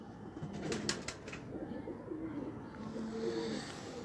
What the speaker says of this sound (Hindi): ये मेरा फेवरेट कबूतर है जी